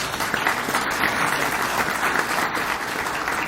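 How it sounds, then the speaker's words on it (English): Audience applause at a hall of fame induction ceremony, a dense, steady burst of many hands clapping at moderate loudness, sustained for a few seconds with no voices over it. "Let's please give him a round of applause."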